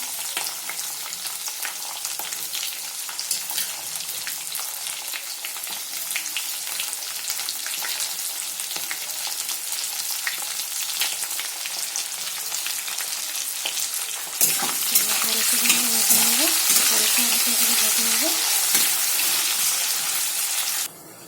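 Onions frying in a pan for chicken curry, a steady close sizzle with stirring scrapes that grows louder and brighter partway through before stopping suddenly.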